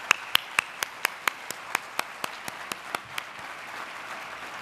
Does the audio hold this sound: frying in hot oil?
no